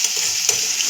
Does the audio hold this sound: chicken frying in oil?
yes